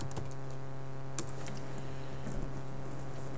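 Someone types a username and password on a computer keyboard, producing a close, quick run of light key clicks over a steady low electrical hum.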